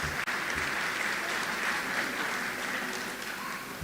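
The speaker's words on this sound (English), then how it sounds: "Give yourselves a round of applause." An audience at a graduation ceremony in St. Lucia claps in a steady, dense burst of applause, heard at moderate distance with no voices over it.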